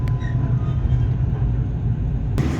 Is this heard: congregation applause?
no